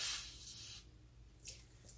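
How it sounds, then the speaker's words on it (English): A short hiss of brake parts cleaner aerosol sprayed onto a rag, close and fairly loud for under a second, followed by a brief softer second burst. "So spray some brake parts cleaner on a rag."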